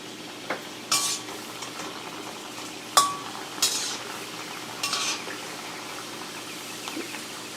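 Modak dumplings, stuffed with coconut-jaggery or copra-sugar filling, are dropped into hot oil to fry, giving a few close clinks and splashes and then a steady soft sizzle with occasional utensil taps.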